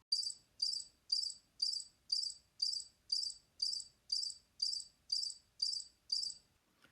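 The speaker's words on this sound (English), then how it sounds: "crickets chirping." Crickets chirp in a regular series of about thirteen evenly spaced bursts, clear and fairly close against an otherwise quiet background.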